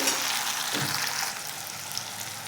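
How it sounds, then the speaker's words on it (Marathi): Tomato sautés in hot oil with already browned onion for a potato curry, giving a continuous close sizzle with a brief stir partway through, with no talking. "आता टोमॅटो घेऊयात टाकून तेलामध्ये छान घेऊयात टोमॅटोला पण परतून"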